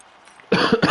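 A race commentator coughs a few times in quick succession, close to the microphone and loud, after a near-silent pause.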